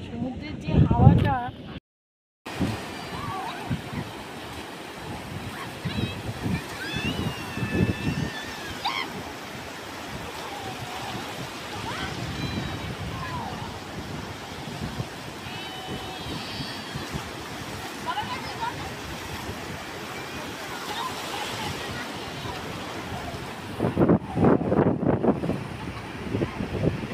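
Sea wind buffets the microphone and surf washes along the beach at Bakkhali in a continuous rushing background, while people talk over it for most of the stretch.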